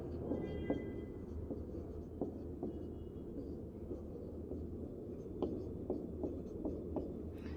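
Faint, close scratching of writing during a maths lesson, with short strokes and small taps over a low steady background hum.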